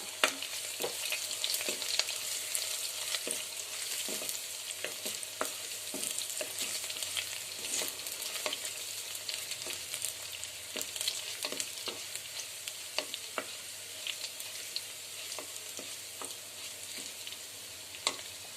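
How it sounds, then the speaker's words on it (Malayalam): Ginger and garlic sizzle steadily in a hot pan for a fish curry, with frequent light scrapes and clicks as they are stirred and sautéed throughout, close and moderately loud, no voices. "ഇഞ്ചി വെളുത്തുള്ളി ചേർത്തു ഇനി നമുക്കൊന്ന് ചെറുതായിട്ട് ഇളക്കി കൊടുക്കണം ചെറുതായിട്ടൊന്ന് വഴറ്റിയെടുക്കാം"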